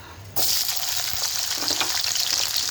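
Onion drops into hot oil already frying vegetables in a pan for a bean, carrot and potato curry, bursting into a loud, close, continuous sizzle that keeps crackling steadily.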